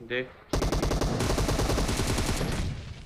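Gunfire in a BGMI squad match rattles in a loud, rapid automatic burst that runs almost unbroken for over two seconds. A brief sound comes just before it.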